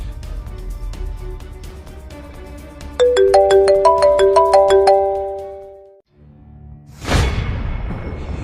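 A phone ringtone plays a bright, chiming melody of quick stepped notes for a couple of seconds, loud and close, then cuts off before a burst of noise follows.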